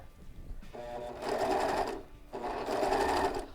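Serger stitching a blind hem on fabric, two loud rapid mechanical whirring runs about a second long each, close up, with a short pause between them.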